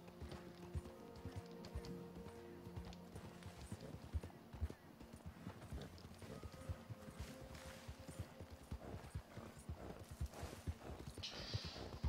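Horse hooves clip-clop steadily in Red Dead Redemption 2, a slow-moving mount plodding along at an even walking rhythm under continuous game ambience and occasional soft background tones.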